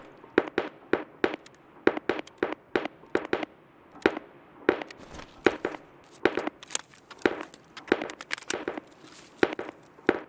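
Distant gunfire in the video game Escape from Tarkov, a long series of sharp cracking shots in irregular bursts and single reports, echoing faintly with no talk over them.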